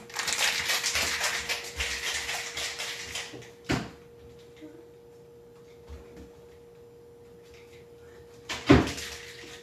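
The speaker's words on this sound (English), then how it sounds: "Now we're going to give this a really good shake." A cocktail shaker packed with ice and egg is shaken hard, giving a dense, continuous rattle for several seconds that stops abruptly. A few thuds follow over a steady low hum.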